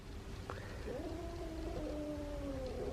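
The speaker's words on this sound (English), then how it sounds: "the way he just hit the gate and hissed is exactly what he does to the other cats" A tomcat behind a pet gate during a cat introduction gives a drawn-out, wavering caterwaul-like cry close by, starting with a short bump at the gate and a sharp onset, then a long sustained moan over a steady background.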